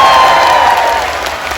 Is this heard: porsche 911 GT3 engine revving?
no